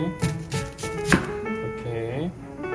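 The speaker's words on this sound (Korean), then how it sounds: "그래서 양파를 요렇게 잘라주세요" An onion is cut into rounds with a kitchen knife, several crisp chops landing in an irregular rhythm close by while a person talks through the cutting.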